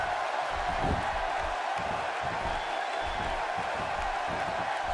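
A WWE 2K16 wrestling video game crowd roars steadily in a large arena, a dense, continuous wash of cheering with no pauses.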